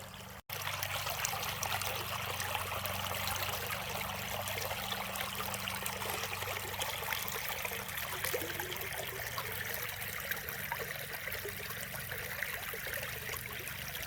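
Water trickles steadily from a garden-style fountain along a trail, a continuous soft splashing babble heard up close with no talk.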